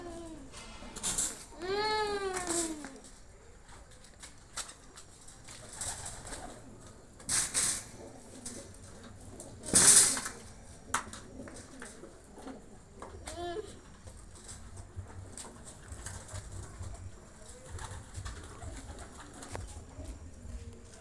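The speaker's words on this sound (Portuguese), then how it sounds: "A pombada acabando de chegar aí, ó. Os pombos estão voando até a noite" Pigeons coo softly and intermittently, with flutters and a few sharper bird calls scattered over quiet background and occasional low voices.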